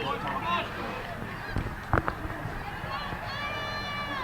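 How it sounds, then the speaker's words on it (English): Geese honk repeatedly in a cornfield, a cluster of calls standing out near the middle with more honking toward the end, all over steady outdoor crowd noise with people talking in the background. "So the geese are all settled in the cornfield now."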